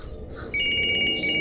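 Phone ringing inside a house in the Siren Head horror video game: a loud, steady electronic ring begins partway through and repeats in rapid pulses, preceded by low rumbling ambience.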